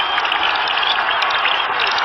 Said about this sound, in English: The Dallas crowd already alive.